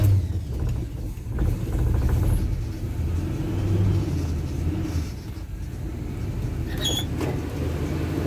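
A 1980 Chevy 4x4 truck engine runs at a steady, low rumbling idle, close and continuous with no talking.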